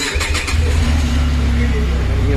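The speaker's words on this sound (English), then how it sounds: "Now let's hear the exhaust sound." A Benelli TRK 502X motorcycle engine cranks and catches with a short starter whir, then settles into a steady, close, throaty exhaust idle.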